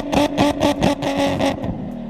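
Nissan 350Z fitted with a Tomei Expreme Ti titanium exhaust revving hard in a series of rapid, loud throttle blips, each rise and fall close together before settling into a steadier drone.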